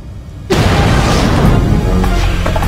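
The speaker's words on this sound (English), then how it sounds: "Suddenly there was the loudest bang I've ever heard in my life." A sudden, very loud bang from a midair collision over the Amazon bursts in after a quiet moment, followed by a sustained roaring rumble.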